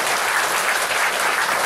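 An audience claps during a church sermon, a dense, even burst of many hands that stays loud and steady from start to finish, with no voices over it.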